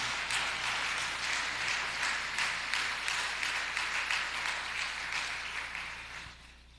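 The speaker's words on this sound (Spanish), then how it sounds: "Bríndele un fuerte aplauso al Señor." Church congregation gives a loud, sustained round of applause during a sermon, a dense wash of many hands clapping that fades away at the end.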